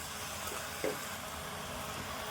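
Gongura chutney mixture frying in a pan, a continuous even sizzle with a single short stirring knock.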